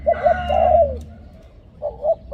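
A decoy dove coos nearby in a few rounded, hollow calls, first a longer rolling phrase, then a pause and two shorter coos, over faint background noise.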